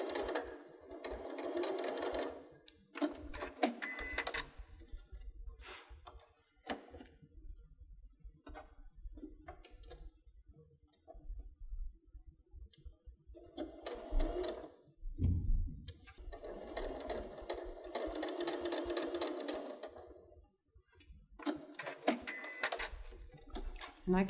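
A sewing machine stitches quilt pieces together a quarter inch from the edge in long steady runs of rapid mechanical whirring, close up, broken by short pauses and occasional clicks.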